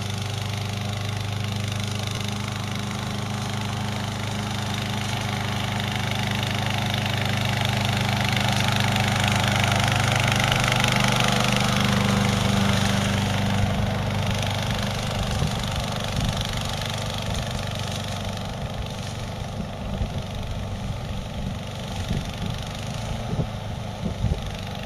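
A new 22T machine climbs a steep 30 to 35 degree hill, its motors holding a steady, loud mechanical drone up close that swells midway, with scattered knocks and clatter toward the end.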